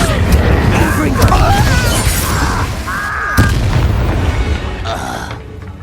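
Confringo spell explosion in Hogwarts Legacy: a loud, dense booming blast with crackling debris and rumbling, followed by another sharp impact and a fading roar, amid game sound and voices.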